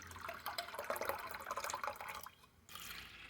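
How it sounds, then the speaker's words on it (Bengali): Soaked black gram lentils are washed by hand in water, giving soft close sloshing and dripping throughout, with a short lull near the end before the splashing resumes; no one speaks. "এখন আপনাকে আবার ভালো জল দিয়ে একটু পরিষ্কার করে নিলেই হয়ে যাবে"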